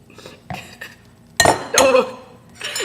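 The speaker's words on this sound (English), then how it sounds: "nice and yummy scoops of peanut butter and just kind of flop it in there." A spoon scoops peanut butter into a bowl for a puppy chow snack, giving a few scattered clinks and scrapes of utensil against the dish, close and sharp, with quiet gaps between.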